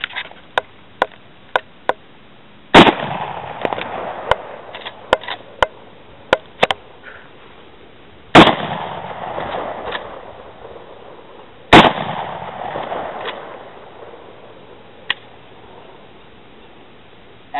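A Marlin 336Y lever-action rifle fires outdoors, each sharp crack standing apart, with a cluster of quick shots early and then single louder reports spaced several seconds apart, with softer clicks and handling noise between them.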